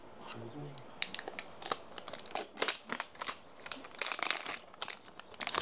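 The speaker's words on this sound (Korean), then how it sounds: "이렇게 포장지를 뜯는다" Plastic packaging around Zhengshan Xiaozhong black tea is torn and crinkled open near the microphone in a series of sharp, irregular rips and rustles, with brief quiet gaps between bursts.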